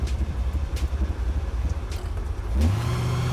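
A supercharged 1967 Chevrolet Camaro engine rumbles, then revs up sharply and accelerates with a rising roar near the end.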